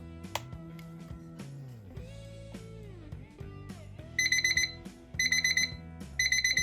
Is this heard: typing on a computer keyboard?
no